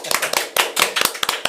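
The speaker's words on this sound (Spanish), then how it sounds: "Un aplauso de público" Scattered hand claps from a small audience at a podcast recording welcoming a guest doctor, a handful of sharp, uneven claps close by over about a second and a half.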